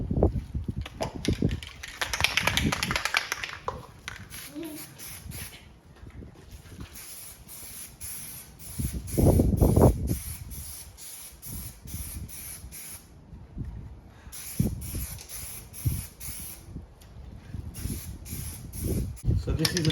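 Plasti Dip aerosol sprays in bursts onto a Tesla Model 3/Y emblem for a heavier third coat, hissing close by in several separate passes with pauses between them.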